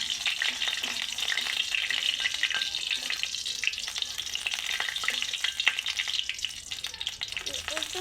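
Dried red chillies and bay leaf frying in hot oil, a steady close sizzle with occasional stirring scrapes running throughout, no talking.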